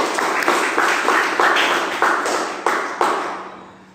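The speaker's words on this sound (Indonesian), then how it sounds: "Tepuk tangan untuk kita semuanya." A small group claps in unison with a few sharp, rhythmic bursts that ring in a reverberant room, then trail off into a fading echo at a technical assessment session.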